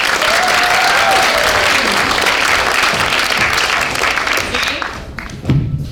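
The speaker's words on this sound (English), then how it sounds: "please, a round of applause for Teacher Feature." A crowd applauds loudly and steadily, dense clapping that carries through before tapering off near the end.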